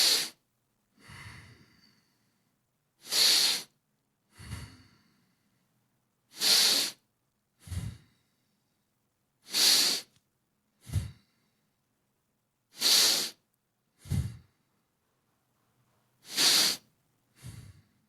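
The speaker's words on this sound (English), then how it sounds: "inhale 6 times" One person breathes close to the microphone in a fascial release exercise, repeating about six cycles of breathy hissing inhales, each followed by a short low snorting breath, spaced evenly with quiet pauses.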